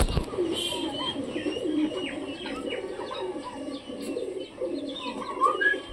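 Pigeons coo softly in a steady, overlapping murmur from a home loft flock, with occasional faint chirps and wing flutters nearby and no talking.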